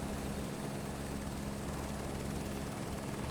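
A helicopter flies in Microsoft Flight Simulator 2024, giving a steady, dense rotor and engine drone that holds unchanged throughout, fairly quiet and with no talking.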